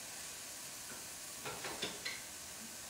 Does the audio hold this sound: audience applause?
no